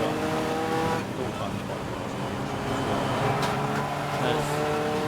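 Race cars, including Clio Cup cars, pass at Snetterton circuit, their engines droning loudly and continuously with rising and falling tones as they go by, and a commentator's voice runs underneath.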